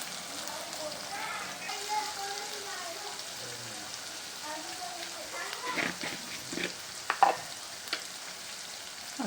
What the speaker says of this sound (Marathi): त्यानंतर अद्रक लसूणची पेस्ट टाकली आहे मी. ती सुद्धा मस्त 2 मिनिटं आपण परतून घेऊ.